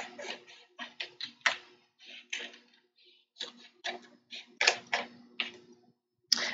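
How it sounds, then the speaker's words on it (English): Scissors trimming around a cut vinyl design, giving a series of short, crisp snips and clicks in uneven bursts, close up and fairly quiet, with brief pauses between cuts. "I could take my scissors and trim around my design"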